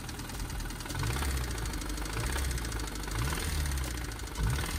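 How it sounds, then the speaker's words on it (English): A Honda S2000 engine with a failing crankshaft after running low on oil, knocking steadily at idle: a close, loud repetitive metallic knock over a constant engine hum, with periodic rises in intensity. "I ran this engine low on oil, and usually when you do that, the first thing to go is the crankshaft. Here's what that sounds like."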